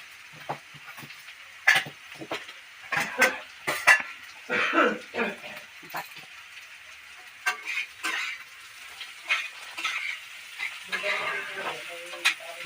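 Cauliflower and potatoes fry in a pan, sizzling steadily with bursts of crackle as they are stirred, spatula and utensils scraping and clinking now and then, fairly close and without talk.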